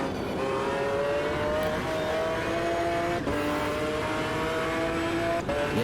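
A Mercedes GT1 race car in the Automobilista 2 racing game produces a loud, continuous engine drone that holds close and steady. The pitch rises and falls gently as the revs shift, and there is no talk.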